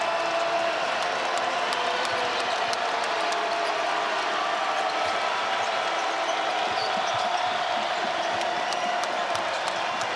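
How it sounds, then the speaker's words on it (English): A packed college basketball crowd at Gonzaga's Kennel arena rumbles in a dense, steady roar, with sharp ball bounces and squeaks ticking through, and a commentator talking over it. "Crowd now rising at the kennel."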